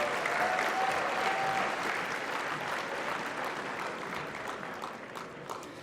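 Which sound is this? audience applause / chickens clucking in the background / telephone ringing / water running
audience applause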